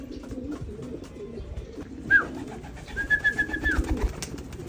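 Pigeons cooing softly during a free fly recall, low repeated coos rising toward the end over faint background noise, with a few thin chirps.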